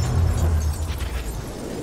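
An explosion strikes a car during a highway chase in Need for Speed Payback, a loud, dense low-frequency rumble that holds steady and slowly fades over about two seconds, with no voices over it.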